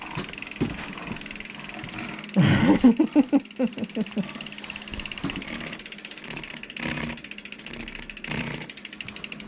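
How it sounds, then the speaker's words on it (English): A bicycle chain rubs and ticks against a 26x4.8 fat bike tire in a quick rhythmic burst of scraping clicks, close up, with softer mechanical noise around it. "Is that the chain on the tire?"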